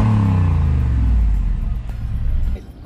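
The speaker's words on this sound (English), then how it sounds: "you hear that twin turbo V8 engine running" A 2013 Mercedes G63 AMG twin-turbo V8 rumbles loud and close, its deep engine note revving then easing off and falling quieter near the end, with no talk.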